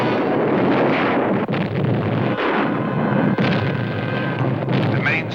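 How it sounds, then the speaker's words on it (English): A loud oil storage tank explosion in a monster movie trailer, a dense continuous roar of blast and rumbling fire with heavy wind-like noise that fills the whole stretch. "The main storage tank of the Japan Oil Company has exploded."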